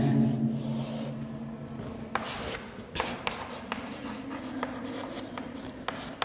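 A pen scratches steadily across paper or a board during a math lesson on linear equations, with light taps and strokes at close range.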